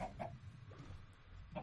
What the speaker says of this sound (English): is that a chicken? Yeah, there's some chickens over there.